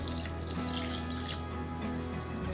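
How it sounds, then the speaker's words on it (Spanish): Water poured into a blender over garlic cloves, a piece of onion, black pepper and cumin for mole de masa ranchero, a steady close trickle and splash running continuously under a low kitchen hum. "Le vamos a poner un poquito más de agua,"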